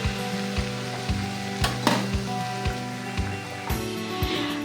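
Bottle gourd frying in a pan, a continuous close sizzle and hiss with regular low thumps and occasional sharper spatters as it cooks, with no talking.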